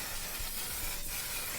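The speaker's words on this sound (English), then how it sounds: "Setting spray time." A short, even hiss of makeup setting spray misted from a bottle, steady and close for under two seconds, with no one speaking.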